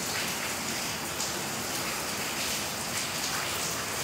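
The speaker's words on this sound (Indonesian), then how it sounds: "Hujan besar sekali teman-teman ya." Heavy rain pours steadily, a dense, loud, unbroken hiss of falling water across the whole clip, close and without voices.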